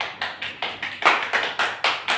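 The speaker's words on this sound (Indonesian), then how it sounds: "Oke, tepuk tangan." A small audience at a school teachers' seminar claps hands in a steady, even rhythm, about nine or ten distinct claps, fairly close and moderately loud, with no talking.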